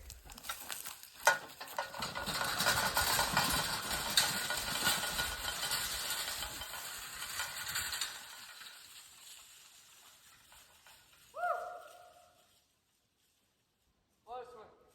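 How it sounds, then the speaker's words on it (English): Wheels of a desk scooter roll and rattle down a dusty dirt hill in a long, loud, gritty rumble that fades out, then scattered brief sounds follow with a stretch of near silence. "thought I'd ride the desk scooter down the hill to end the video."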